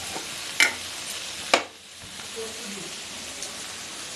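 Potatoes and fish in a frying pan give a low steady sizzle, with two sharp utensil clinks against the pan and quiet stirring scrapes; no talking is heard.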